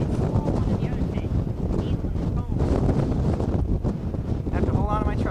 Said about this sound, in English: Damn, wind.